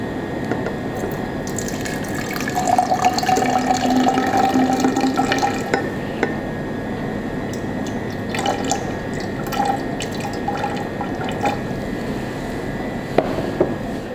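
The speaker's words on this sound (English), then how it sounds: "then pour it into the flask to the culture media" Distilled water pours steadily into a glass flask, a continuous splashing fill with a faint rising tone, alone and close.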